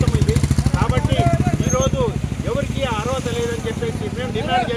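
Motorcycles idling and revving during a large CPM party bike rally, a close, pulsing engine throb running under a man's continuous speech.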